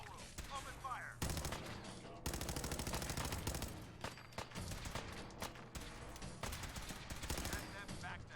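Dense bursts of automatic gunfire crackle through a Fallout 4 firefight with the Brotherhood of Steel, loud and sustained, with rapid volleys broken by short pauses and voices mixed in.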